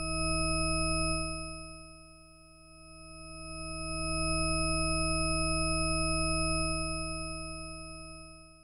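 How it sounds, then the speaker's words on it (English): An old computer produces a steady electronic test tone rich in evenly spaced harmonics, passed through a Behringer 130 Dual VCA. It holds continuously while its loudness swells, dips and swells again, with no voices. "I have set up a simple test sound with a very wide range of harmonics using this ancient computer"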